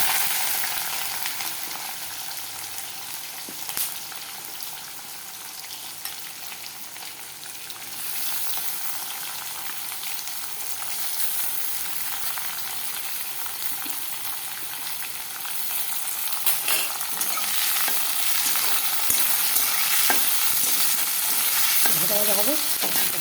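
Chopped onion fries in hot oil with whole spices for a mutton curry, a continuous loud sizzle with scraping stirs, rising slightly toward the end and heard up close with no voices.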